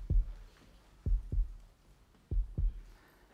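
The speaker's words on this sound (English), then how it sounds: "You've just heard the three beats of the heart of the building you're sitting in." A building's vibration, recorded as a heartbeat-like signal, gives three faint, low, paired thumps evenly spaced, like lub-dub beats, with quiet hum between and no talk.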